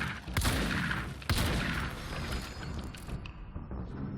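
Grenade blasts and gunfire from the video game Control go off as a couple of heavy, close bursts. A dense, rumbling spray of combat noise follows and fades slowly.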